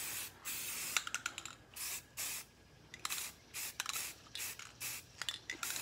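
A spray paint can hisses out base color onto a Freewing 90mm F16 model jet in repeated short bursts, loud and close, with rattles and pauses between each pass.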